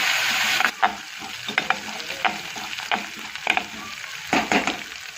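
Curry leaves and ginger-garlic paste with cumin sizzle steadily in hot oil as a spoon scrapes and stirs the pan in irregular strokes. Nobody speaks.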